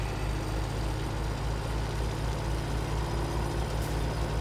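A truck engine idles in Farming Simulator 17, a steady low rumble that holds constant throughout with no voices over it.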